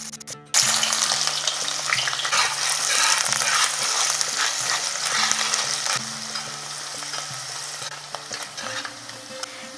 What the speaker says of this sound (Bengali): এরপর এখানে দিয়ে দেব কুচি করে রাখা পেঁয়াজ।